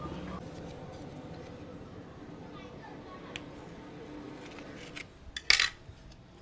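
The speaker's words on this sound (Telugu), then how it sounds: "మనం తీసుకున్న ఈ పన్నీర్ని ఇలా ముక్కలుగా కట్ చేసి పెట్టుకో" A knife cuts paneer into medium-sized pieces on a board while making Dhaba-style paneer curry; faint soft taps over low background noise give way to a quick cluster of sharper clicks and knocks near the end.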